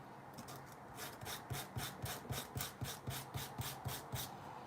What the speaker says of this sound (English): It's not really sandpaper, it's more like a file, but it should help smooth out the end here.